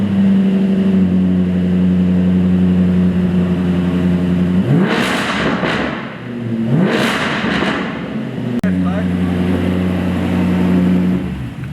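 Jaguar F-Type with a Quicksilver exhaust idles loudly, then revs hard twice with rising and falling roars before settling back to a steady idle.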